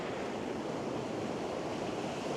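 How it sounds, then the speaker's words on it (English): Ocean surf breaking against rocks on a moody New Zealand coast, a steady close roar of churning water with wind noise across the whole stretch. "I've already had a few waves come up, sort of waves coming in now."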